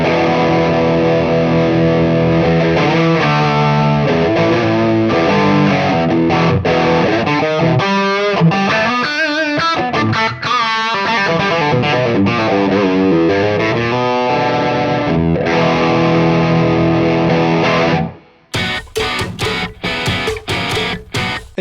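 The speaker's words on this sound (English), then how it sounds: "running an overdrive pedal into a distortion pedal" Heavily distorted electric guitar, run through an overdrive pedal into a distortion pedal, plays sustained chords and riffs for a long stretch, then ends with a few choppy, muted strums.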